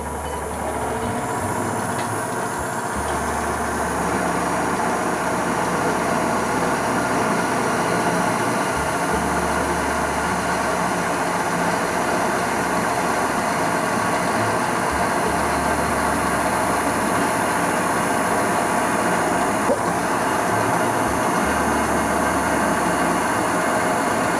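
A vintage Tauco pillar drill spins at raised speed with a steady close motor whine and mechanical rumble, and low pulses repeat every few seconds throughout, with no voices.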